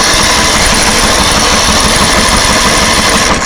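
A hot-wired lawn mower engine is cranked by its starter motor, giving a loud, steady, close whirring drone that runs continuously without catching, with no talk.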